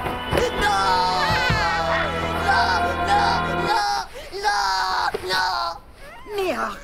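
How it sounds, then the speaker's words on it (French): A cartoon character yells and shouts in excited, strained bursts while other animated French voices talk over a music bed that drops out partway through, loud and close throughout. "Arrête d'hurler comme ça"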